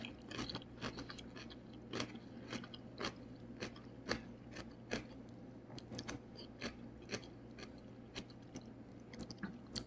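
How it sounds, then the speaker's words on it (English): Crunchy, crisp kimchi with bits of carrot being chewed close up, a steady series of sharp crunching bites with no talking. "You can hear as I was chewing the crunch to it"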